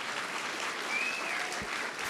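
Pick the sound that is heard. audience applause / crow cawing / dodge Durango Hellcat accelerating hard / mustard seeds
audience applause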